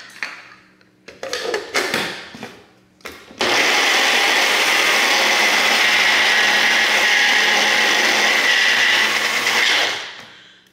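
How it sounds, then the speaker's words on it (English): Mint, parsley and other chimichurri sauce ingredients go into a blender: a few short pulses and knocks first, then a loud, steady whirring run for about seven seconds before it winds down; no talking. "And we'll blend those all up."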